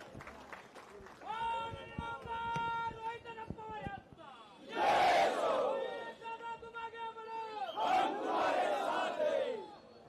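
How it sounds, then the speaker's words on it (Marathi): Crowd at a political rally show of strength in Tasgaon, Maharashtra, bursting into loud cheering and clapping in two big waves, with a voice speaking over a sustained tone between them. "एकदा जोरदार टाळी त्यांच्यासाठी."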